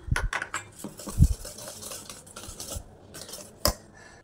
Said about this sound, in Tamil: பொடி பண்ணி வச்சுருக்கிற சர்க்கரையும் சேர்த்து நல்லா மிக்ஸ் பண்ணி எடுத்துக்கலாம்.